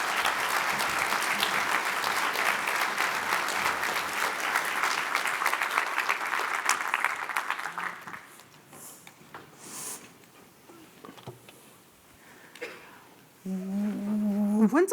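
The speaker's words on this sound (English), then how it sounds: "a round of applause for Sharon Steed" Conference audience at RubyConf 2023 applauding a keynote speaker, a dense sustained clapping for about eight seconds that then fades out to a quiet room, with a brief tonal sound near the end.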